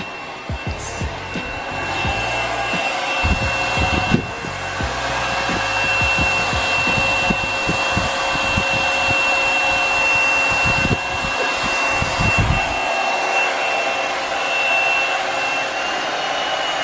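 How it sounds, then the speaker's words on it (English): A handheld blow dryer runs steadily at home while someone dries and restyles hair, a continuous close whooshing hum with brief bumps and shifts as it moves, lasting throughout without speech. "I hear the blow dryer"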